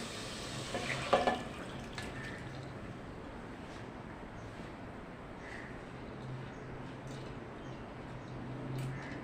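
Soaked lentils and chicken sautéing in a pan, a quiet, low hiss of frying with a brief clatter of a spoon stirring against the pan near the start and a few faint scrapes later.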